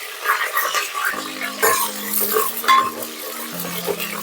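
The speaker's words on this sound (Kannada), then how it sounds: "ಈರುಳ್ಳಿ ಚೆನ್ನಾಗಿ ಫ್ರೈ ಆಗಬೇಕು." Onions and green chillies fry in a pan for egg chicken curry while a utensil scrapes and clinks against the metal in irregular strokes, soft sizzling underneath, with a few brief tones in the background.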